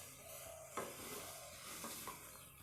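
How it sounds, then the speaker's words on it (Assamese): Green mango pieces being stirred in a pan over a low flame, a few quiet scrapes and clinks over a faint, continuous sizzle. "ভালদৰে লৰাই দিম।"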